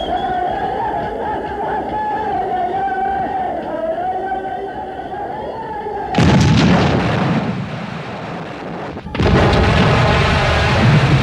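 Heavy booms of Assyrian artillery guns firing, two loud broadband blasts that cut in abruptly and ring on, following a stretch of droning engine-like hum.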